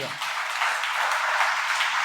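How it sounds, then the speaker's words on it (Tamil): An audience at a Murugan devotional gathering claps steadily in a dense, even wash of applause that continues for about two seconds without easing. "அவங்களுக்கு பெரிய ஒரு கைத்தட்டல் கொடுங்க"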